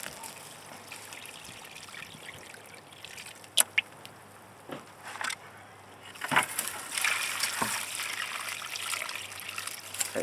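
Stinky water being poured and sloshed near potted plants, a faint trickle with a few sharp knocks that swells into a louder, steady splashing pour toward the end.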